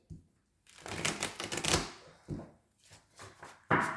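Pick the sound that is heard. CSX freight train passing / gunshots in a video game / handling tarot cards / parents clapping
handling tarot cards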